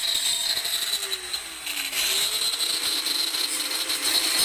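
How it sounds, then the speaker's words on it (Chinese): A power tool cuts a hole in a broken ceramic bonsai pot, giving a continuous high, buzzing whine with a motor pitch that sags and recovers, close and steady throughout. "第一口开个洞，稍微开大一点"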